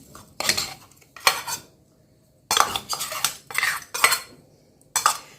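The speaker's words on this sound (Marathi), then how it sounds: "आता एका भांड्यात आपण मिक्सरला फिरवलेलं काढून घेऊया" A spoon scrapes and clinks against a metal mixer jar and bowl while scooping out ground sesame mixture for til gul laddu, in short bursts of close, bright clattering separated by quiet pauses.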